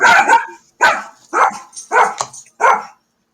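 A dog barks five times in a loud, close, evenly spaced series of sharp barks, with short pauses between them and silence after the last.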